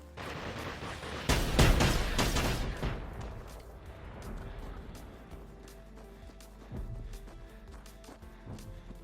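Weapons fire from a Phoenix prototype tank machine in Generation Zero, opening with a loud dense volley of shots, then fading into scattered sharp cracks and distant rumbles over several seconds.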